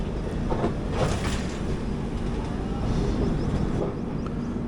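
17206 Kakinada Port–Sainagar Shirdi Express running on the main line after leaving Madira station, a steady, loud rolling rumble of wheels and carriages heard from on board, continuous throughout with faint clatter.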